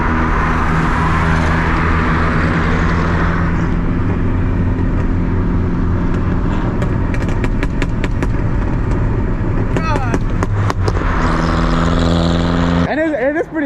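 Loud, sustained exhaust rumble from a modified MK4 Volkswagen GTI 20th Anniversary Edition, steady and close throughout with a brief surge near the end, while people talk over it.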